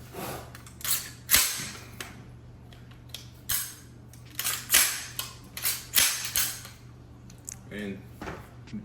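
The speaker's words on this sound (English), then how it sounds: "Function check on the weapon." A rifle fitted with a Law Tactical folding stock gives a series of sharp metallic clicks and clacks as its action and trigger are cycled, fairly faint and close, with a steady hum underneath.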